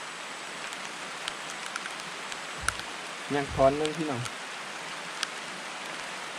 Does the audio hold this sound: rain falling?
yes